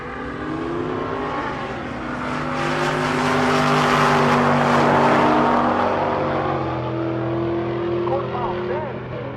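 At a drag strip, a C6 Corvette Z06 and an old body style truck pass close by with a broad, rising engine roar that swells to a peak mid-run and then fades away, as an announcer talks over it.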